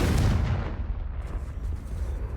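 A Confringo blasting spell explodes in Hogwarts Legacy, a loud booming burst that rolls into a rumbling, crackling decay lasting a couple of seconds, heard alone without talk.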